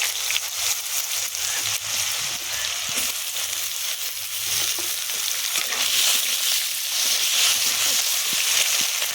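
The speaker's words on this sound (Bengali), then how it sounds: "আলু আর পেঁয়াজকালি একসঙ্গে ভাজা ভাজা করে নেব।" Potatoes and onion stalks frying in oil with dried red chilli and nigella seeds, a continuous close sizzle with scattered crackles and occasional stirring scrapes in the pan.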